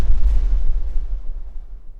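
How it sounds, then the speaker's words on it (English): A spaceship blows up in the sky in the video game Return to Shironagasu Island, a loud, deep boom followed by a long rumbling roar that slowly fades, with no talking. "It takes several seconds for the sound of the explosion to reach us."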